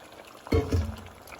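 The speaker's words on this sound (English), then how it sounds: "Now I'm going to add the remainder of our marinade in." Leftover rib marinade is poured into a pot in a short, close splash lasting under a second, with two quick gushes over a quiet kitchen background.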